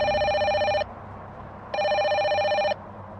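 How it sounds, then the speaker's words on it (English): An old landline telephone rings in two long electronic bursts separated by a pause, loud and close with a faint hum between rings, used as a horror story effect. "the landline rang."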